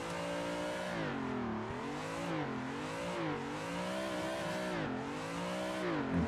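Simulated car engine in Assetto Corsa held at steady part throttle through a long drifting sweeper, its harmonic whine rising and falling in repeated swells as revs shift, loud and continuous with no talking.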